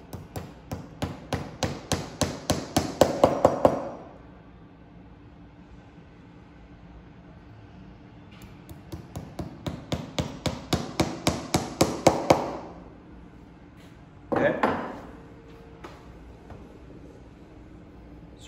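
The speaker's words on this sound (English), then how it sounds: "we're going to put a single nail on either side of those tabs to make sure that that doesn't pull up" Hammer driving 1/2 or 5/8 inch nails into a leather-covered saddle horn: two runs of rapid, steadily quickening taps that grow louder, then a brief final cluster of strikes, close and with no talk.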